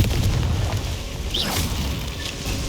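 Spell blast from the Confringo curse in Hogwarts Legacy: a single fiery burst with a whooshing rise near the middle, over a steady rumbling game soundscape.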